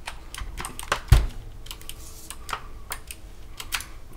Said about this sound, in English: let's do a quick typing test, see how it sounds in stock form